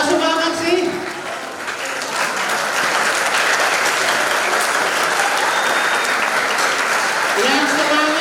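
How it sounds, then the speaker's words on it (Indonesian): An audience claps for the older students at a public lecture at an Islamic boarding school in Balikpapan, dense sustained applause filling the room, with a voice speaking briefly at the start and again near the end. "kita berikan tepuk tangan buat kakak-kakak kita semuanya"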